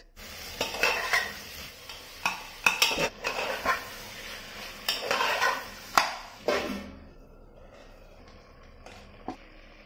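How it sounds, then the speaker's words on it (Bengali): Onions drop into hot oil in a pan for chicken curry, and a spoon scrapes and clinks against the metal as the pieces are stirred. The clatter is loud and near, then fades to a quiet sizzle. "প্রথমে তেল দিয়ে দিলাম, তারপরে পেঁয়াজ"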